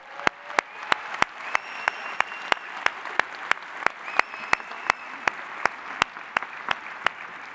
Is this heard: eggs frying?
no